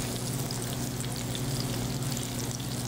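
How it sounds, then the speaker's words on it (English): Breaded smelts frying in hot oil, giving a dense, continuous bubbling sizzle with fine crackles over a low steady hum, close and even throughout. "if you were to fry these without filleting them like we did here, you would just fry them the same way"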